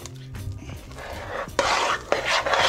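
Parmesan cheese and cream are stirred into mashed potatoes with a utensil scraping and clinking against the pot, the scrapes growing louder and rougher partway through.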